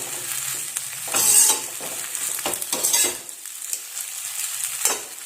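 Food being roasted and stirred in a pan over high heat, with a steady sizzle and frying hiss broken by repeated scraping stir strokes, close and fairly loud with no talking.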